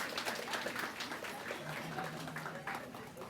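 Audience applause at a Pride Month reception, a steady wash of clapping from a crowd, moderately loud and continuous, with some voices mixed in beneath.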